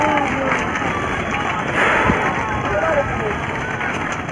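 A crowded market bazaar in Khairabad, Sitapur, where stray bulls roam and fight: dense, continuous commotion of many voices and movement, loud and close, with people talking throughout.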